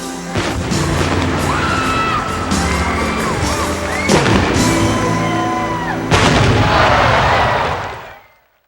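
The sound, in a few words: fireworks after Braves game in Atlanta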